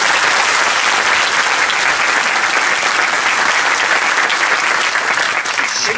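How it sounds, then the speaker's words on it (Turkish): Loud, dense applause from a large audience at a Circassian (Adyghe) language day event in Düzce, steady and continuous throughout, with a faint murmur of the crowd under it. "Onları da alkışlamanızı istiyorum"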